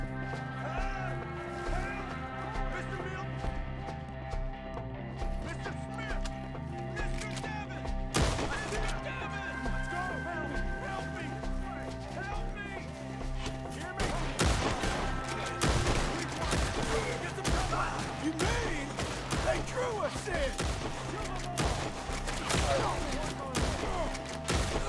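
Gunfire in a Red Dead Redemption 2 gunfight near wagons, with dense, continuous volleys of shots over a steady music bed, growing heavier and more rapid partway through.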